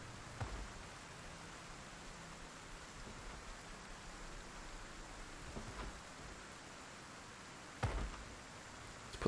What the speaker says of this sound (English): Maybe we should get inside, out of the rain.